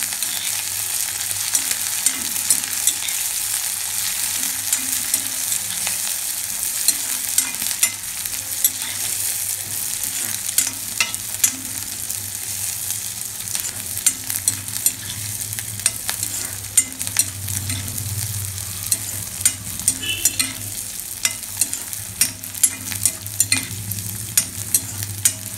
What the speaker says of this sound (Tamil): இந்த வெங்காயம் வந்து கொஞ்சம் ப்ரௌனாக வதக்கிக்கணும்